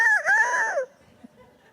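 A rooster lets out a loud, close crow with a rising and falling cock-a-doodle-doo lasting under a second, followed by quiet with faint background noise.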